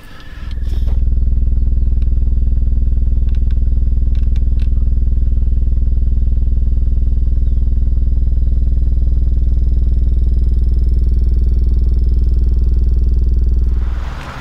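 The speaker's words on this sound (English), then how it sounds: "the last thing I'm going to show you guys real quick is we're going to show you how the woofers dance" Two Audio Pipe 12-inch subwoofers driven by a Power Acoustik BAMF amp on a stock alternator and battery play a sustained 20 Hz bass tone, a loud steady low rumble with faint rattling, lasting about thirteen seconds before cutting off.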